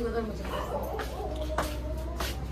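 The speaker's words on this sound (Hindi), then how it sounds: "और देखो बाहर कुत्ता भूस रहा है" A dog barks outside at night, around half past one, giving several short, separated barks at a moderate distance over steady low background hum, with muffled voices nearby.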